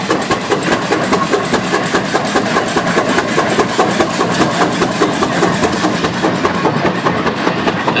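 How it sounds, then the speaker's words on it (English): A 1917 International Harvester 30-60 Titan tractor engine runs steadily at a parade, a loud, close, rhythmic chuffing beat that holds an even pace throughout. "This is an IH 3060 Titan from 1917, one of 3 in existence."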